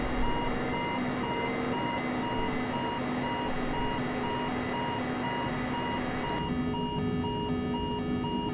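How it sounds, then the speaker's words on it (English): The speed alarm in a Boeing 747 in Microsoft Flight Simulator beeps in a steady, rapid, repeating tone over a constant cockpit hum, loud and continuous throughout. "That speed alarm is definitely going to go off again."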